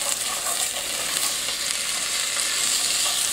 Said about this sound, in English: About 2 to 3 minutes we're just going to cook these, just enough to soften the onions and get the carrots to start cooking.